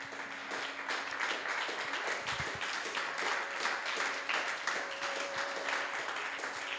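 Congregation applauding in a church during a Sunday service, steady dense clapping throughout with a faint sustained tone underneath, moderately loud and even.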